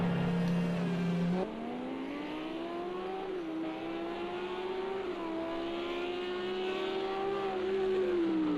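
A GT3 race car in a sim racing game rejoins the track from the pits, its engine droning loud and steady, the pitch climbing through gear changes with brief dips between shifts.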